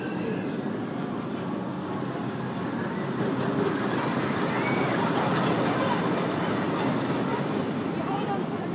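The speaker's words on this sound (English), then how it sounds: "I hear the train." A ride train at Chessington World of Adventures theme park passes as a continuous rolling rumble that swells midway and stays loud, mixed with general park noise and a voice talking.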